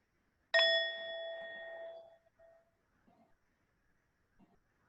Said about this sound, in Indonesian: saya akan membunyikan bel